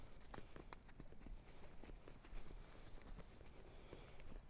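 A horse canters on a lunge rope during groundwork, its hooves thudding in a quick, repeated rhythm at moderate distance, fairly faint and steady with no talk over them.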